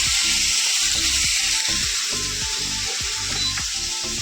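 Fish fries in a pan with a loud, close, continuous sizzle, broken by a rapid, steady rhythm of crackling pops throughout, with no voices.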